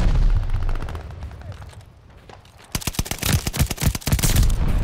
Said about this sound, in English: they shooting at me from the main building